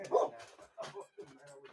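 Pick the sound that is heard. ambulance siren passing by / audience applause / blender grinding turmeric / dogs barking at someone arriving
dogs barking at someone arriving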